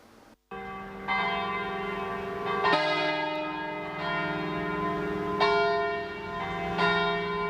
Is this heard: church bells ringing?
yes